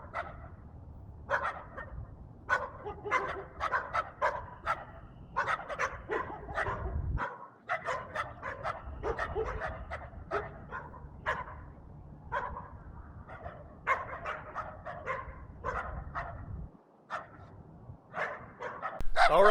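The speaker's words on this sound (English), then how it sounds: "Got some dogs barking in the neighbor's yard there." Several dogs bark in a neighbour's yard, loud sharp barks coming in irregular bursts with yips and whimpers mixed in, nearby and continuous through the whole stretch.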